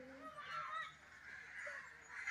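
A few honking duck calls sound nasal and repeated over a quiet background at a zoo, fairly faint.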